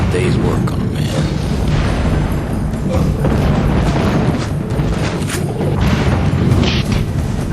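Dynamite blasts in a brutal Wild West action game rumble heavily and continuously, deep booming explosions layered with mechanical clatter and a speaking voice.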